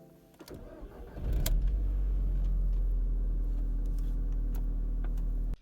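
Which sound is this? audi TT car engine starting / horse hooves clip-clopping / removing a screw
audi TT car engine starting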